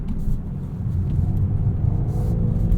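A 2021 BMW 430i Convertible with M Sport differential accelerating up an entrance ramp, its engine a loud, steady low rumble heard from inside the cabin with road noise.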